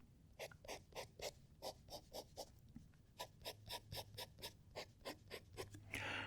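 A soft fountain pen nib scratches across paper in a quick series of short, rhythmic strokes, close and fairly quiet, with a faint low hum underneath.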